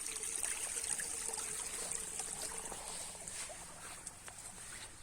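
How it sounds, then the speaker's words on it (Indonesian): Irrigation water flows into a rice paddy on a Taiwanese farm as a quiet, steady trickle with a faint hiss, continuous and unbroken. "Jadi air dimasukkan. Jadi airnya mulai masuk."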